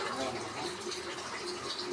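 Water is poured into a bowl of besan (gram flour) mixed with curd for Maharashtrian-style buttermilk kadhi. A close, steady splashing trickle runs for about two seconds with no one talking.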